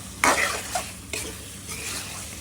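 Spices being stir-fried in a pan for a hilsa fish curry with taro, a steady close sizzle with a couple of sharp scraping stirs of a spoon against the pan.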